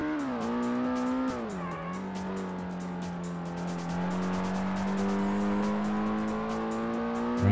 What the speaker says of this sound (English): the engine popping noise